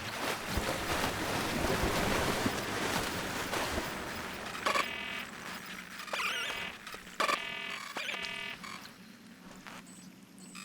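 Water and waves in the video game Scanner Sombre wash in as a loud, rushing surf-like roar that fades into quieter, intermittent splashing and lapping with brief rhythmic bursts.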